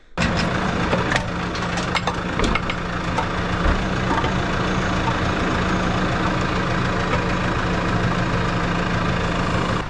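A steady tractor engine rumbles and idles at close range while reversing, with a few sharp knocks and clanks, no voices.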